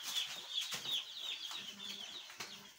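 Day-old poultry chicks in a delivery box give faint, high, continuous peeping chirps, with light rustling and scratching in the box underneath.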